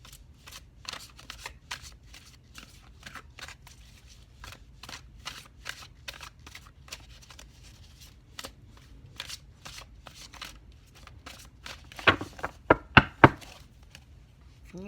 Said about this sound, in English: I want these cards to shuffle for me.